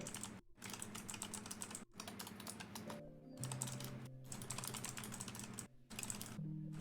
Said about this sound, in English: I heard rapid fire typing.